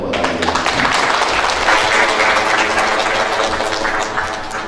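Audience applause for graduating students at a Quran recitation completion ceremony, steady continuous clapping filling the room with a constant hum underneath, no speech over it.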